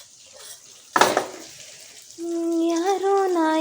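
Spices for North Karnataka curry tempering give a brief burst of sizzle and a clatter in the pan. A singing voice with sustained notes follows over it.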